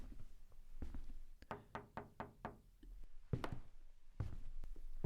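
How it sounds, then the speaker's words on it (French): Footsteps approach a school classroom, a run of evenly spaced sharp knock-like steps on a hard floor, fairly close and growing more distinct, with a few isolated thuds before and after. "j'entends les pas de Monsieur Riegel arriver"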